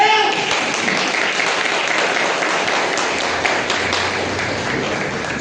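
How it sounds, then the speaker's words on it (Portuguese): A congregation at an Assembleia de Deus church service claps in dense, sustained applause with crowd noise mixed in, loud and continuous throughout. "As palmas podem ser melhor,"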